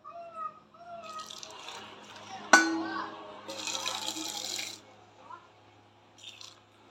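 Baby formula milk, Dexolac 3, is poured back and forth between containers to cool it, giving soft liquid splashes and trickles, with a sharp clink in the middle and a few faint vocal sounds.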